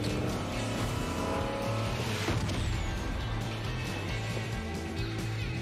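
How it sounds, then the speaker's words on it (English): Car engine driving in the video game Fortnite Chapter 2, Season 3, a steady loud motor roar with brief tire squeal, running continuously throughout with no talking. "There's a car."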